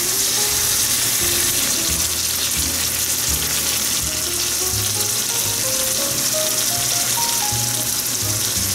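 Garlic and ají amarillo fry in a pan with a steady, loud sizzle that holds throughout, and a faint clink of stirring sits underneath it.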